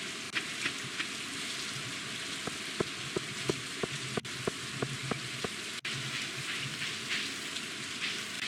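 Steady video game rain patters across a surface with scattered louder droplet ticks, a constant hiss filling the background without any voices.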